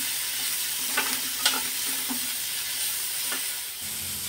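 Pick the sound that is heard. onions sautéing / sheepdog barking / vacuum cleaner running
onions sautéing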